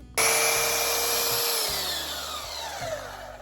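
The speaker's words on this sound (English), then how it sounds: "Cheap power tools." A cheap power tool spins up hard and then runs with a high whine that slowly drops in pitch as it winds down, loud and close, with low knocks beneath it.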